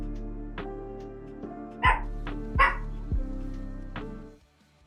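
A few sharp, loud barks and yips from dogs indoors, spaced irregularly over a steady low electronic hum before fading out.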